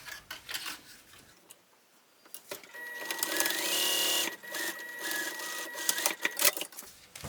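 A sewing machine stitches a 3/8 inch seam along the diagonal sides of a small fabric tote, starting with quiet taps, then a rapid mechanical whirring run of needle strokes with short pauses, close and moderately loud.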